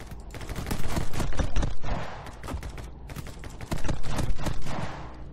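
Repeated rifle gunfire from a Kar98 in the video game My Friend Pedro, a dense run of loud, sharp shots in quick succession with clattering action between them and a brief lull partway through.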